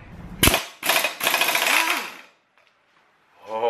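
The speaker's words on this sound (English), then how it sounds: "I have an air compressor and air impact." A pneumatic air impact wrench rattles loose a bolt in three loud, close hammering bursts, the last one longest, followed by a short silence and a faint mechanical sound at the end.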